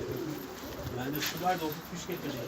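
Tumbler pigeons coo softly in a loft, giving a few low throaty warbles at moderate distance while someone talks nearby and faint background noise continues throughout.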